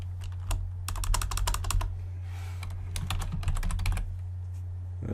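Rapid clicking keystrokes on a computer keyboard come in quick bursts with short pauses between them, close and clear over a steady low electrical hum, with no talking.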